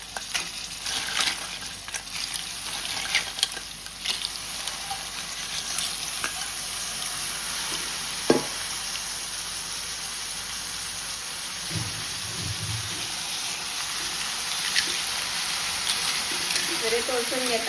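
Crabs fry in a pan for a Goan-style crab sukha, a loud, constant sizzle with the scrape and clink of stirring now and then and a louder knock partway through.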